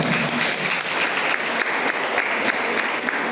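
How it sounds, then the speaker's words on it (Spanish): A church congregation applauds in praise during a Spanish-language worship service, a steady dense wash of many hands clapping close and loud, continuous for the whole stretch without pause. "¿Cuántos dan un aplauso al Señor en este tiempo?"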